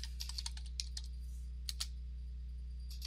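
Computer keyboard typing while searching for Visual Studio from the Start menu: quick irregular bursts of key clicks, close and fairly quiet, with short pauses between groups of strokes.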